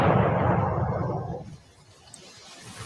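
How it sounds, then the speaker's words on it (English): A single loud boom from a distance in Bensalem rumbles and decays over about a second and a half, then leaves quiet outdoor background. "Neighbors in Bensalem have reported hearing loud booms and bright flashes of light."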